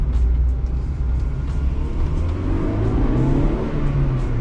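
A not-yet-warmed-up Acura Integra GSR engine drones steadily while driving through a cul-de-sac, a low, even rumble at modest revs with no hard acceleration.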